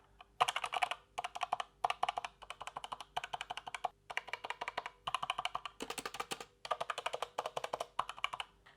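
Steady bursts of typing on a Razer BlackWidow V3 mechanical keyboard with yellow linear switches, soft and muted rather than clicky, recorded close up with brief pauses between flurries.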